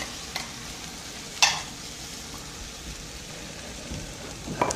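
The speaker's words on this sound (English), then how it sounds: "Take some onions, sweat the onions out, a little garlic, some red peppers, some pineapples." Onions, garlic, red peppers and pineapple sweat in a pan for a relish, giving a steady soft sizzle with a few sharp stirring clinks, close and without talk.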